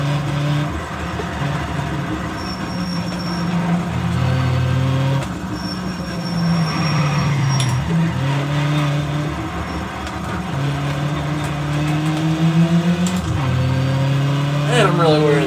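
A Nissan 240SX engine holds high revs while driving at Deals Gap, a steady droning whine that rises and dips as the throttle shifts, with a voice talking over it.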